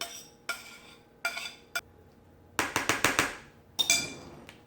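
Metal and glass clinks as a mixture is scraped and tipped into an air fryer pan, a series of sharp close knocks and clatters in irregular bursts, with quiet pauses between.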